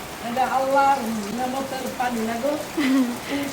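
Steady rain falls as a soft background wash beneath continuous nearby talking.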